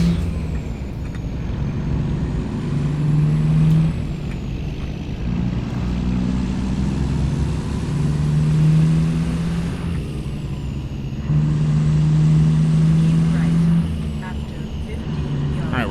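AI traffic in American Truck Simulator on an autumn drive through Oklahoma: a steady hum of passing cars and trucks with low engine drone that swells and fades in a few waves, heard throughout with no talk over it.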